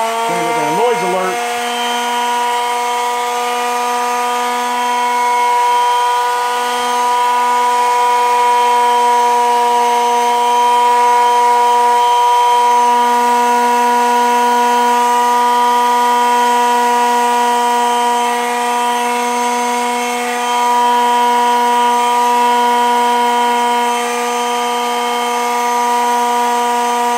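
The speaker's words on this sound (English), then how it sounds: "Let me just grab this sander" A handheld power sander runs steadily on wood in a craft workshop, giving a continuous, loud, even mechanical whine for the whole stretch, with no pauses or speech.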